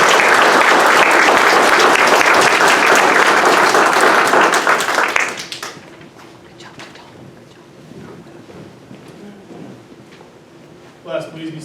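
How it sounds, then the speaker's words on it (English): Loud, sustained audience applause at a military civil engineer (3E231) technical school graduation ceremony, a dense wash of clapping that fills the room for about five seconds, then drops away to quiet room murmur and a few faint sounds. "Let's give a round of applause to our newest Dirt Boyz."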